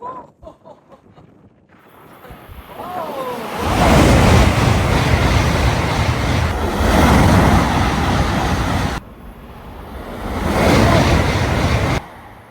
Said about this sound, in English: Here it comes, the bullet train.